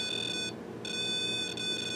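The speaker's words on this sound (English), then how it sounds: "if anything crosses it, will set off the alarm" Mel Meter EMF detector alarm giving a steady high electronic tone that cuts out briefly near the middle and again just after, loud and close with no talk.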